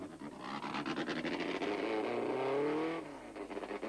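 A Fournier-Marcadier single-seater race car with a Gordini 1300 engine at a hill-climb race, its engine revving up through rising gear pitches, then dropping off before pulling again, loud and close.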